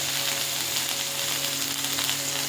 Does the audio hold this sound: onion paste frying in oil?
yes